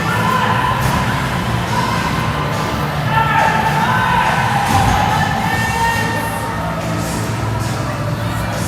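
Crowd murmur at a junior women's hockey game in Cambridge Arena, a steady loud arena roar with scattered shouts and children's voices throughout, no single cheer standing out.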